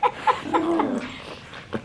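A dog named Bobo holds in a bark, letting out a string of short, strained whimpers and muffled yips that end in a low, drawn-out whine, close and fairly loud.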